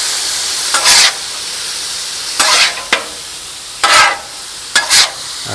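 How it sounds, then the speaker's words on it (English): Fajitas sizzle steadily on a Blackstone griddle, a constant loud hiss broken by bursts of louder sputtering every second or so as the food is stirred; no talk. "Nothing better than the sound of fajitas."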